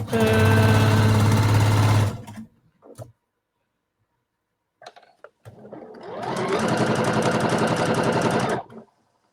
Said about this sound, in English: Match up the seams. And sew.